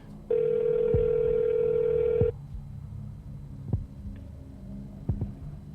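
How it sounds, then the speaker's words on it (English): A telephone ring tone on an outgoing call sounds once, a loud steady tone of about two seconds, followed by quieter line noise and faint clicks. "I'm gonna call Jay"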